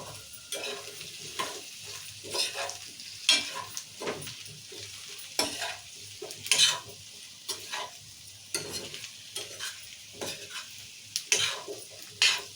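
A spoon stirs tomato and drumstick curry in a pan, giving repeated scraping strokes against the metal over a soft, continuous sizzle, with no voices.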